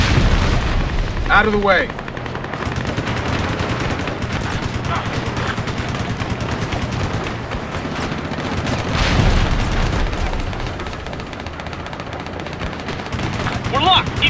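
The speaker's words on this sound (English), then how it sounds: "Fire guns." Jet fighter cannon fire in the video game Ace Combat: Assault Horizon, with loud sustained rattling bursts and booming blasts that swell near the start, middle and end, mixed under game dialogue and radio chatter.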